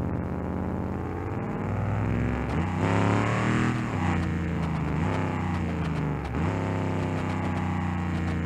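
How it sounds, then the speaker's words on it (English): Simulated muscle car engine in the driving game BeamNG.drive, a loud, deep rumbling drone with revs rising and falling several times, heard alone and close. "Plus, I mean, this car sounds amazing."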